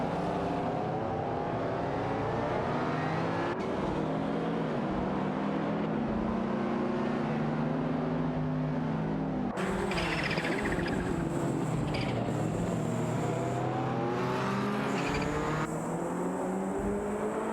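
Several race cars in a video game race, including a Lamborghini Countach L5000 and De Tomaso Pantera GT5S, roar continuously with rising and falling engine pitch as they jostle close together, loud throughout with no talk.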